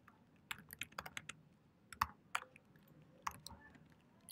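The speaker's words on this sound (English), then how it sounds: "just typing something." Keys clack on a computer keyboard in short bursts of quick taps separated by pauses, close and fairly quiet, with no voices.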